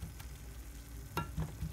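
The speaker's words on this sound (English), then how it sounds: "I think it's warm because it's sizzling" A pulled pork quesadilla sizzles in a pan with a steady low frying hiss, broken by a few brief louder pops and crackles near the end.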